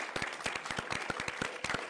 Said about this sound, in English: Just like to everybody to give her another round of applause.